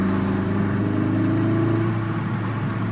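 MK7 Golf R engine with turbo flutter and induction noise, a close, continuous throaty engine drone with a fluttering, pulsing texture that holds steady for a few seconds, loud and alone.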